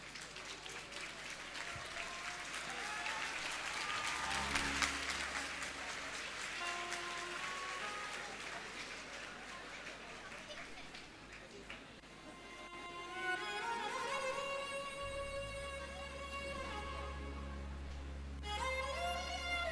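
A student audience at a motivational session claps for an arriving guest speaker, sustained crowd applause that swells and fades, with a hum and some musical tones in the background.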